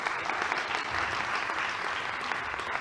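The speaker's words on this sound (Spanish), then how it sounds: "un fuerte aplauso para Pedro J. Bonilla" An audience applauds steadily for a flamenco maestro being introduced at a presentation, a dense, even wash of many hands clapping throughout, fairly close and unbroken.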